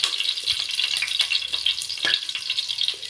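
Bay leaf, stone flower, curry leaves and cumin fry in hot oil, giving a close, steady sizzle with bright crackles and a few soft stirring knocks, with no talking.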